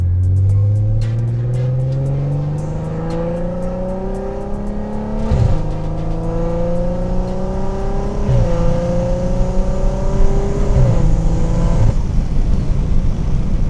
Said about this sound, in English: 340i, driving it around, getting that POV footage for you guys.